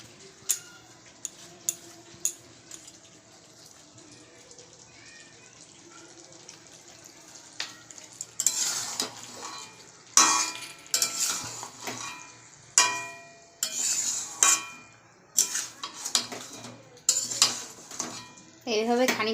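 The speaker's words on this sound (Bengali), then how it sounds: "কিছুক্ষণ কষিয়ে আবার ঢেকে দেবো" Meat curry with fried onion being stirred in a pan, a series of loud clattering scrapes and clinks of a spoon against the pan, sparse at first and then dense and rhythmic in the second half, with no talk.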